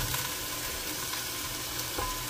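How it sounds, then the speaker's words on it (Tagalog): Meat and potatoes frying together in a pan for Filipino menudo, a steady close hissing sizzle with faint stirring scrapes throughout, no voices. "para maluto yung ating karne at patatas sabay"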